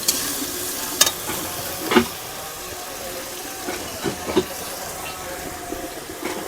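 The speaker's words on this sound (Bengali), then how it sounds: "দেখেছো বন্ধুরা মশলাটা কত সুন্দরভাবে কষিয়ে নিচ্ছি" A masala paste for boal fish curry sizzles steadily in a pan, with a few sharp scrapes and knocks from stirring, while a voice speaks faintly over the hiss.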